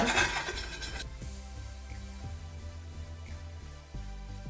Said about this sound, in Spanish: Con la ayuda de la espata metálica que tengo aquí, voy a raspar esto.